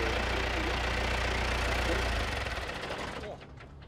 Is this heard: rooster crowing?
no